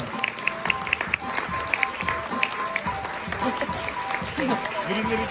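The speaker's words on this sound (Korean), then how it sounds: "큰 박수로 신랑 신부님을 축복해 주시길 바라겠습니다." Guests applauding the bride and groom at an outdoor wedding ceremony, scattered clapping from a crowd running through the scene with people talking over it.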